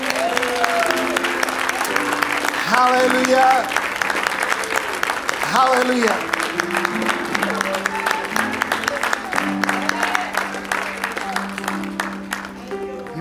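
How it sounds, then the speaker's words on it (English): A congregation at a funeral service claps steadily in praise for several seconds, with a voice calling out over the clapping and music playing underneath. "Give the Lord a clap offering of praise."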